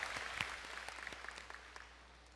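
A church congregation at a summer revival gathering claps to give glory to God, the applause faint and distant and thinning out toward the end.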